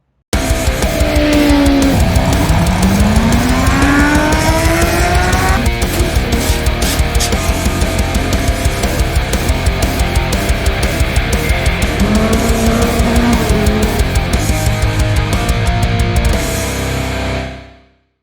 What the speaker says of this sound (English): Here's Death Kart, called a Rattler XT.